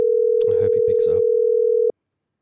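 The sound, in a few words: phone call ringing, waiting for pickup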